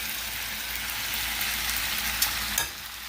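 Hash browns frying in olive oil in a coated pan, giving a steady, moderately loud sizzle and crackle throughout, with a couple of brief scraping clicks near the end and no talking.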